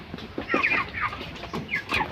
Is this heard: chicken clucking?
yes